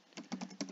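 Keys clack on a computer keyboard as text is typed into a live chat, with four quick broadband taps in uneven rhythm, close and clear with no voices.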